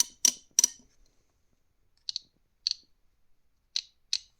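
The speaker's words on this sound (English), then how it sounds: "these are both good ratchets, like I say. They click and turn real easy" Socket wrench ratchets click as they are turned by hand, a few crisp close clicks in quick succession at first, then single clicks spaced out, with no talking.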